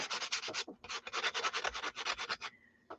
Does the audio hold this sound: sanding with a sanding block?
yes